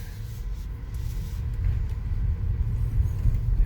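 A 2024 Tesla Model Y electric car pulls away from a stop, a low, steady rumble of road and motor noise that gradually swells as it gains speed, with no voices.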